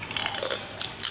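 Close crisp crunching as brittle fried pork rinds are bitten and chewed, with a few sharp crackles in quick succession.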